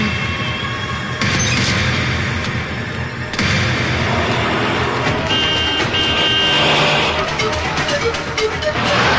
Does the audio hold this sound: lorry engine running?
yes